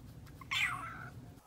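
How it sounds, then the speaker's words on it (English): House cat giving a single short meow in the middle, moderately close over a faint low background hum, with no talking. "Let's see what my sister's cat Meatball has to say about this exciting turn of events."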